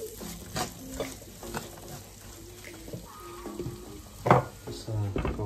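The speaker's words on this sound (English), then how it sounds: "Let's fry it for 2 minutes." A beef patty mixture fries in a pan with a soft continuous sizzle, punctuated by scraping stirs and clinks of a utensil, heard close up.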